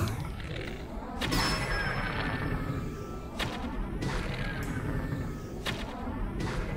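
Three shots striking targets in The Legend of Zelda: Tears of the Kingdom, heard as three distinct ringing metallic impacts spaced about a second or two apart over steady game ambience.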